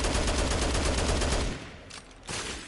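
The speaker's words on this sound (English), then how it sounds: "I can hear multiple, yeah, it's the sniper coming." Rapid bursts of sniper gunfire in Dead Rising Deluxe Remaster, a dense run of sharp repeated shots for about a second and a half, then quieter trailing pops and a final short burst.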